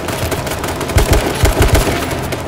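Bursts of automatic gunfire in the battle royale game H1Z1, several rapid close shots in clustered volleys with punchy low thumps, loud over a busy game background.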